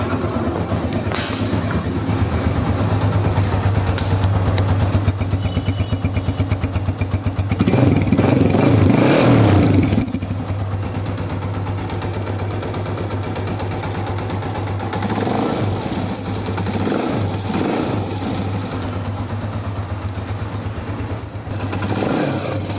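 An old, fully restored Honda CG 125 motorcycle engine runs steadily in a closed room, with a louder revving burst partway through and a mechanical clatter throughout.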